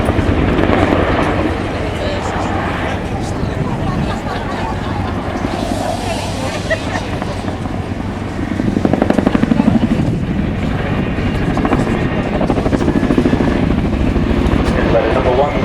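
RAF Chinook twin-rotor helicopter displaying at the Waddington Airshow 2011: a loud, steady, throbbing rotor drone that swells briefly midway, with an announcer talking over it throughout.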